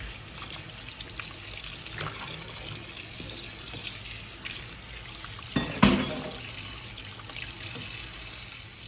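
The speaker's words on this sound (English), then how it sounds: "Now, as you add the water, let it marinate in that water" Tap water runs into a sink over goat meat being cleaned, a steady moderate trickle and splash with a brief louder gush midway, no voices.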